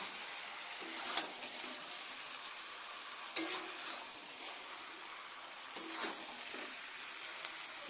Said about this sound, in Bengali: আমরা ভালো করে নাড়বো